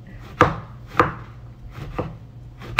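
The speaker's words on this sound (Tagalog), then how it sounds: "hiniwa ko lang siya ng square na maliit." A knife chops vegetables into small squares for a salad, with four or five crisp, close board strikes spaced about half a second apart and quiet pauses between them.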